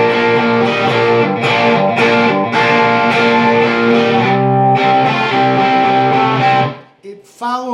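Distorted electric guitar chords ring out close and loud in a series of strong down-strikes, each chord sustaining before the next, then cutting off with a brief trailing scrape.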